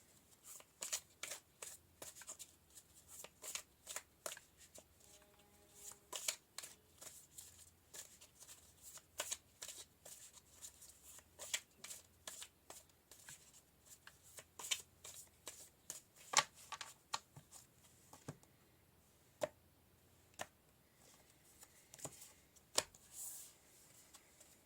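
Tarot cards riffled and shuffled by hand in a steady run of sharp, close papery snaps and flutters, pausing briefly now and then, with no talking.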